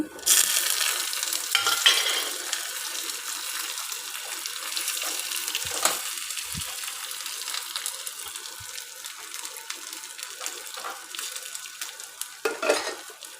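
A steady, bright sizzle of spices tempering in hot oil for a South Indian buttermilk curry, with a few soft clinks, continuing close and loud throughout.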